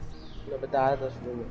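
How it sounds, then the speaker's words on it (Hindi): A pet bird chirps and coos faintly, heard briefly under steady conversation during a PS4 Rainbow Six Siege live stream. "ये चिड़िया आपने पाली हुई है"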